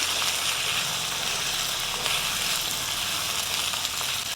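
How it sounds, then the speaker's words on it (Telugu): Broad beans frying in a pan with spices give a steady, close, continuous sizzle and crackle that holds evenly throughout with no talking. "పచ్చివాసన పోయేంత వరకు వేయించుకోవాలి"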